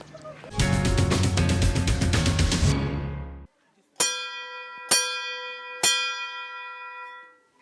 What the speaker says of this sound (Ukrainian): І ось такий дзвінок сповіщає про те, що скоро вже обід